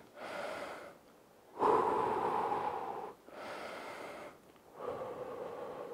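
Heavy breathing during a home workout cooldown, slow deep breaths in and out in steady cycles of about one and a half seconds, close and clear with no talking.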